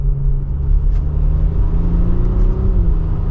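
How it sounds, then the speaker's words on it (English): A 2024 Audi SQ5 Prestige engine rumbles and gently builds as it accelerates in comfort mode, a deep exhaust drone with a rising whir, close and continuous. "If I put it into comfort now, we'll give it a mild acceleration once we slow back down here."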